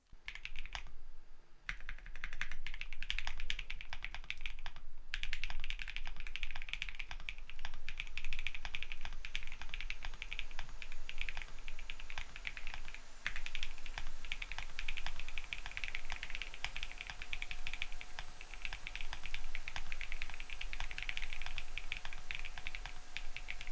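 Steady, continuous typing on a Monsgeek M1 custom mechanical keyboard with soft, rapid key clacks, close up and alone, keeping an even rhythm throughout with no talking.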